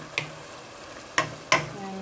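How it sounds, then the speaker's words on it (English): Pot of chili with beans on high heat being stirred, three sharp spoon scrapes against the pot over a faint steady simmer, close and fairly quiet. "on high and just stir it, and it should mostly just evaporate"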